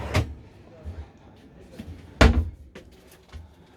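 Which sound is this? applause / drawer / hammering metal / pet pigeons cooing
drawer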